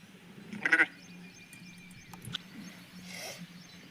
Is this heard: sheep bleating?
yes